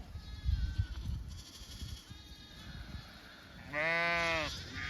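Newborn lambs and ewes bleat on a green May pasture in Missouri, with a few faint calls early on and one loud, close bleat near the end against soft outdoor rustling.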